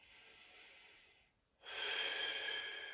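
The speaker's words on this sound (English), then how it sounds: "Breathing in." Slow, soft inhalation during a neck stretch, a quiet airy breath that fades, pauses briefly, then swells into a louder, steady rush of air through the nose or mouth, close and with no talking.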